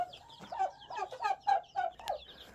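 Young chicks from a small backyard hatch cluck and peep in a quick run of about seven close, bright chirping calls, with no talking.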